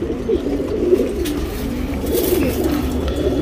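A tournament pigeon in Bangalore coos softly and repeatedly in low, rolling phrases over a quiet background, with no one speaking.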